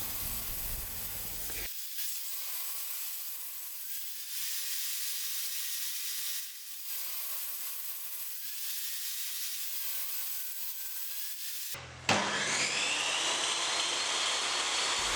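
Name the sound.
cutting wood pieces to shape for furniture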